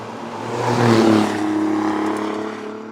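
Alfa Romeo Giulia Quadrifoglio sports sedan in Dynamic mode taking full throttle, its engine note climbing loudly through a strong rising pull, peaking early and then holding a hard, raucous sustained tone, with no voices.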